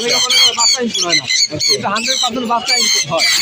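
Loud, repeated harsh squawks from a young hand-fed parrot chick at a bird market, close by, coming in rapid bursts with voices mixed in.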